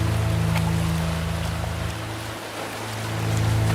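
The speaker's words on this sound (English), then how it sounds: "Best example would be recording the ocean." Ocean field recording made with a Zoom H4n handheld recorder: a steady, broad wash of surf and water noise with a low rumble, swelling and easing slightly, no voices.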